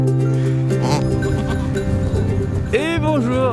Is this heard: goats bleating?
yes